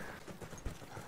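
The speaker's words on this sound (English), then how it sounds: "There's a horse guy. Oh, the horse!" Horse hooves clopping in Battlefield 1 during a multiplayer match, a brief faint patter with one sharper thud, mixed into busy game noise.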